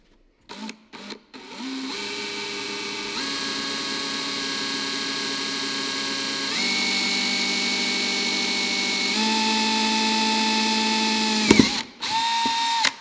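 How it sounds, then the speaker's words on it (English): A power drill with a greased bit bores out aluminum on a Supra turbo kit install, a steady loud whine that steps up in pitch a few times, framed by short clicks at the start and end. "the aluminum we're going to be drilling out"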